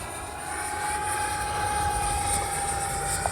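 A small Hobby Zone L-39 radio-controlled jet flies overhead, its electric ducted fan giving a steady whining drone with a thin high tone, continuous and moderately loud with wind rush.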